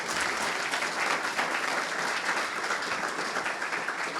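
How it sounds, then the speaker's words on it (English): Sustained applause from an audience, many hands clapping steadily for several seconds. "I just want to just quickly get a round of applause, please, for Jeff."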